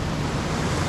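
A swollen river rushes past during Hurricane Julia on the Ixcán river in Barillas, Huehuetenango, Guatemala, giving a loud, steady, broadband roar of churning water with no break and no voices.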